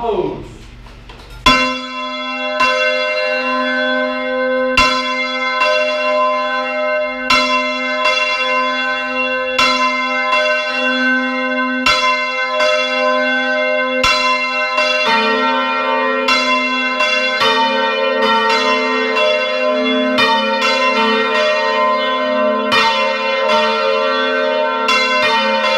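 Church bells at Yunquera de Henares are swung by hand for high mass, clanging loudly and continuously. Their overlapping strikes build into a dense, ringing peal that grows fuller partway through, with faint voices under the din.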